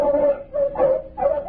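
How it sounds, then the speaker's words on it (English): Dogs barking and whimpering in a field, presented as artificially enlarged terriers in an old-time radio drama, three yelping bursts in quick succession, close and fairly loud. "Artificially enlarged terriers loosed in the fields of the fast crops."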